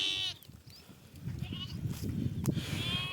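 Several sheep and lambs bleat in overlapping calls, close by, over a busy background of shuffling animals.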